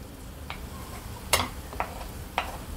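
A metal spoon scrapes cowpea pods off into a cooking pot, giving a few light, separate scrapes and taps at a close distance over a quiet kitchen background, with no talking.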